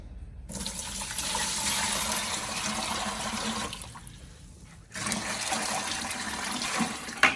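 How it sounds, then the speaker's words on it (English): Water runs steadily from a tap into a two-gallon container for turkey brine, a continuous rushing stream that stops briefly midway and then resumes. "let me slowly fill up these 2 gallons"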